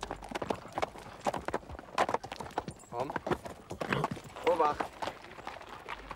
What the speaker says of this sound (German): Die Trainpferde, vorwiegend Freiberger, einige Haflinger und Maultiere, werden in Rekrutenschulen ausgebildet